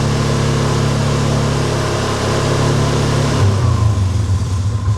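A Polaris Sportsman 570 ATV engine runs at a loud, steady high rev and then drops back toward idle near the end, close and with no voices.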